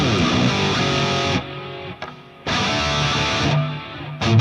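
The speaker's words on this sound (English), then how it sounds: "So let me turn off the chorus just so you can hear the delay a little better." Electric guitar played through a Fractal Axe-Fx III with an ambient stereo delay and the chorus switched off, giving loud sustained chords that cut off abruptly into brief quiet tails before resuming.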